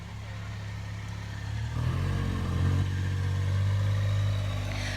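A small Polaris utility vehicle rolls past at a festival, its low engine drone swelling from about two seconds in and holding steady and fairly close, with faint clatter over the hum.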